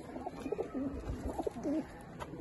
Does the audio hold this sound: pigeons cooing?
yes